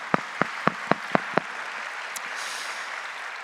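A church congregation at a Korean overnight worship service claps six sharp beats in unison, then the sound melts into a steady wash of softer scattered applause.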